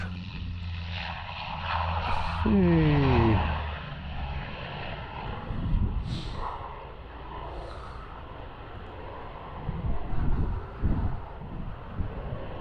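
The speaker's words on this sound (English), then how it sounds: "Just as I knocked it off there's a plane coming in." A propeller airplane drones steadily overhead amid wind buffeting the microphone, rising and falling in loudness; a voice calls out briefly.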